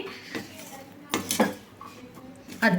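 A spoon scrapes and clinks against a pan while caramel makhana is stirred with powdered jaggery on the stove, with several loud metallic scrapes and knocks and a voice speaking faintly in between.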